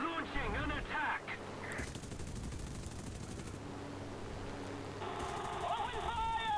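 Machine gun fire from an F2A-1 Buffalo fighter plane in a flight video game rattles in bursts during an aerial fight, with a person talking over the gunfire.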